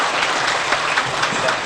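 An audience at a New Year's gathering of a civic group bursts into applause, a dense, even patter of many hands clapping steadily and close at hand for the whole stretch.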